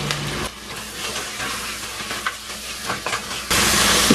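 Sprats sautéing in a pan for a tomato fry give a steady, fairly loud sizzle with scattered scrapes and clatters of stirring, swelling to a denser hiss near the end.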